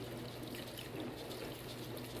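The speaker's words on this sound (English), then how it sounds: "What you're going to see is an exothermic reaction that comes off of pouring the lye into the water" Steady pouring of lye into water, a soft continuous trickle and splash close by, with no talking.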